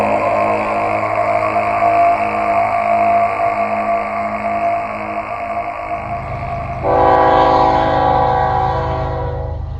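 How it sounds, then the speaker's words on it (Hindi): A loud, close train horn blares in a long sustained blast, shifting to a brighter, louder second tone partway through, with rail rumble underneath. "इतने में ट्रेन का हॉर्न बजा"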